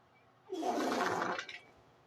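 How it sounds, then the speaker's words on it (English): Water splash joke whistle of a toy steam locomotive styled after an 1800s engine: a single broadband hissing, splashing burst lasting about one second, loud and alone, then fading quickly. "here's the water splash joke whistle"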